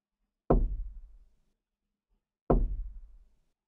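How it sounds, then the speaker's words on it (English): Two heavy, resonant knocks in the video game Mirror-Mirror, spaced about two seconds apart, each booming and then decaying into silence. The knocks are close and loud, with nothing else audible. "What is that knocking sound?"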